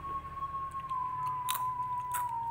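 Crunchy jengkol crackers being bitten and chewed close up, a few sharp crisp crunches standing out over a faint steady electrical hum, with no talking.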